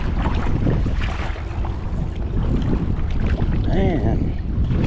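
Wind gusts roar across a microphone over open water during a bluegill fishing outing, a steady buffeting rumble with a brief whistling squeak near the end.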